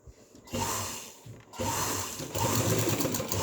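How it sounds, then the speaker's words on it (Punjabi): Sewing machine stitching a zip onto a shirt, a steady close mechanical whir that starts, pauses briefly, then runs on continuously and loud, with no talking. "ਪਹਿਲਾਂ ਜਿਸ ਤਰ੍ਹਾਂ ਆਪਾਂ ਸਲਾਈ ਲਾਈ ਸੀ ਉਸੇ ਤਰ੍ਹਾਂ ਹੀ ਸਲਾਈ ਲਾਵਾਂਗੇ"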